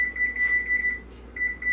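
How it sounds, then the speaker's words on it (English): A kitchen timer beeps in steady high electronic tones while being set during a seafood boil, a long run of beeps followed by a pause and then a few more, close and clear with no talking. "so I'm gonna set the timer to"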